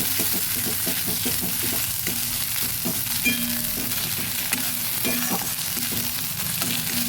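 Kharkol leaf paste frying in a pan with steady sizzling and repeated scraping stir strokes throughout, close and continuous.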